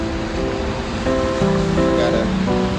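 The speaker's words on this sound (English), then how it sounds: "I don't know if you can hear the raindrops in the background." Steady rain falling outdoors on a wet day, a continuous broadband hiss of drops like surf, with a low hum and some tonal background sounds layered in, no voices.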